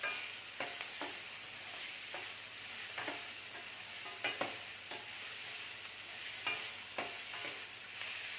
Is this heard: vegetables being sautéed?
yes